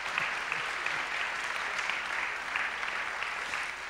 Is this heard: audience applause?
yes